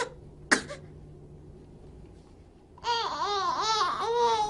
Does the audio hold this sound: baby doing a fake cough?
yes